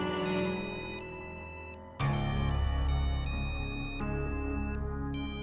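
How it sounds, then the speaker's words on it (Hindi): A loud electronic phone ringtone plays a repeating synthetic tune, briefly cutting out before resuming at full volume. "यार आशीष, किसी का अर्जेंट फोन होगा, उठा ले"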